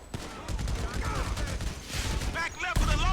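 Machine gun fire in GTA 5: dense, rapid bursts of automatic gunfire, loud and close, mixed with other game effects and background music throughout.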